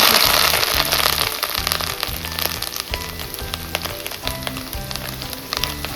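Crushed ginger and garlic fry over a low flame in a pan already popping with mustard seeds for a fish curry, a continuous close sizzle with scattered crackles and a faint repeating low hum underneath.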